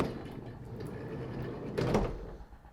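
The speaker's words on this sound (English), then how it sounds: "Side loading door." The side loading sliding door of a 2016 Vauxhall Vivaro 1.6 CDTi ecoFLEX van gives a low rolling rumble, then a single firm, close thud as it runs along its track and shuts.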